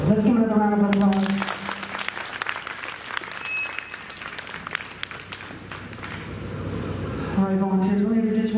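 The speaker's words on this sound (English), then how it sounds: "Let's give it a round of applause." A live show audience breaks into a long round of applause, a dense clatter of many hands that swells and fades over several seconds. A voice talks before it and again as it dies away.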